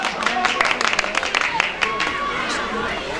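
Crowd clapping and cheering in a noisy hall at a football tournament event, with voices chattering and calling out over the applause.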